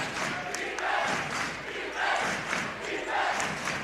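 Basketball crowd cheering a big play at a college semifinal game, a loud, sustained roar of many voices swelling and surging in waves throughout.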